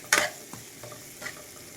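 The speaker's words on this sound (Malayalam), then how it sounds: "ഉള്ളി നല്ലോണം ഒന്ന് വാറ്റിയെടുക്കാം" Onions frying in a pan for a Kerala wheat aleesa dish, with one sharp scrape of the spoon followed by a few softer stirring taps over a faint, quiet sizzle.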